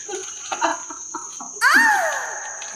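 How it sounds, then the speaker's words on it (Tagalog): Crickets chirp at night around an abandoned house in Meycauayan with a thin, continuous high trill, joined by faint muffled voices early on and then a louder sweeping cry-like sound over it. "Ang ingay ng mga kuliglig na yan"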